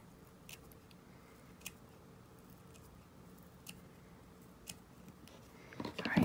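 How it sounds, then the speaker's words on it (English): Scissors trim stray pieces of crepe paper fringe while making paper aster flowers. A handful of faint, sparse snips sound up close in a quiet room, with a louder rustle at the very end. "You need to kind of get in there and trim it off."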